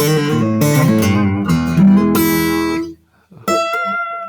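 An acoustic guitar wails and slides through squealing, pig-like bent notes imitating a pig, loud and close, before a brief pause and one more sustained twangy note.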